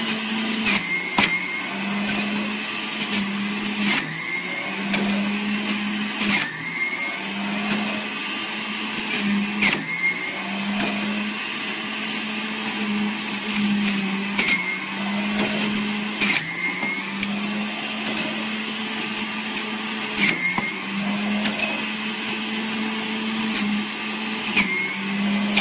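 An electric fruit juicer's motor runs at high speed, a loud continuous whirr with a recurring cyclic pulse and occasional sharp ticks, heard close and alone for the whole stretch.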